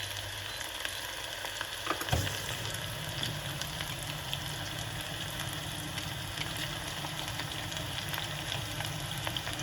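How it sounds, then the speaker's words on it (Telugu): Chicken pakodi pieces fry in hot oil, a steady close sizzle and bubbling throughout with one brief clunk near the start. "వేడైందా లేదా ఇట్లా కొంచెం వేసి చూసుకోవాలి. నూనె బాగా వేడైందా?"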